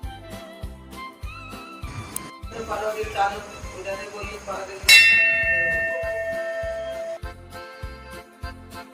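Bell ringing at a Shri Krishna temple at night, struck several times with bright metallic clangs that ring out and fade over a steady rhythmic background beat.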